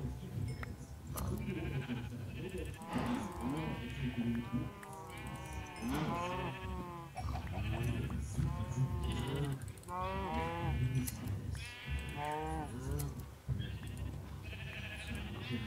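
Sheep bleat repeatedly in a Minecraft game, several wavering calls overlapping one after another over a low background, fairly close and steady throughout.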